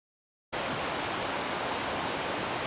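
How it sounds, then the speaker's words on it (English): A river running strong beneath a cable suspension bridge on the Superior Hiking Trail in Minnesota, a steady, full rush of water that starts abruptly and holds a constant broadband roar. "The river, she's running pretty good."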